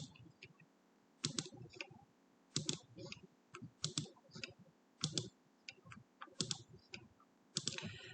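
Mouse clicks selecting multiple choice answers on a computer, several separate sharp click bursts spaced about a second apart, close and fairly quiet, with no talking.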